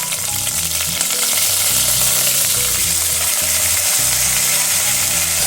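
Soaked rice with cumin sizzles and fries loudly in a pan, with a constant bright crackle and the repeated scrape of a spoon stirring gently through the grains.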